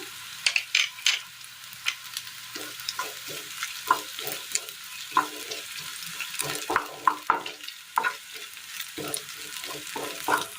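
Grated coconut is stirred and dry-roasted in a pan for a Kerala dish, with repeated scraping strokes of a spoon in an uneven rhythm over a faint, low sizzle.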